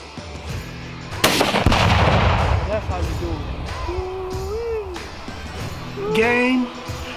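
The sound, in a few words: gunshots at a shooting contest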